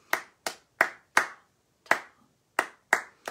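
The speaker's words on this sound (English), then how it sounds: "I might get them to clap just a simple quaver rhythm" Hands clap a simple quaver rhythm: eight crisp, close claps in a short pattern with brief pauses between groups, alone in a quiet room.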